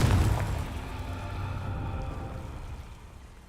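A Confringo blasting spell from Hogwarts Legacy goes off with a deep boom that trails into a low, rumbling decay and fades over a few seconds, with no talking.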